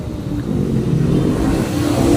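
Weekday road traffic in Makati rolls past close by, a dense wash of car engines and tire noise that swells slightly as a vehicle accelerates, with no voices.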